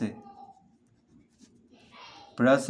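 Math question being written out during a linear equations lesson: faint, light scratching of writing in a quiet room, followed by a voice speaking near the end.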